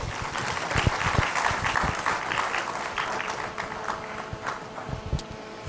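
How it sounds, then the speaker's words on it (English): At an annual supplier conference, an audience applauds a keynote speaker with sustained, dense clapping that stays even and full for several seconds and never thins out. "Can you give her another hand clap?"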